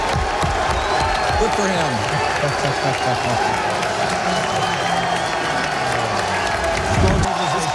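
A crowd at the 2005 NFL draft at the Javits Center applauds and cheers, a loud steady roar of clapping and shouts that fills the whole stretch, with a voice speaking briefly over it.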